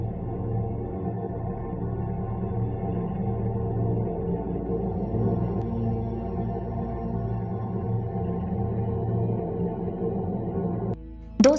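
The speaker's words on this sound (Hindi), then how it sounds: "अब हम लोग चांद की उस रहस्यमयी आवाज को सुनेंगे," Eerie sound presented as the mysterious Moon sound sent back by the Chandrayaan-3 Pragyan rover and Vikram lander: a steady, dense low drone with layered hum bands, holding evenly for about eleven seconds before a brief sharp burst at the end.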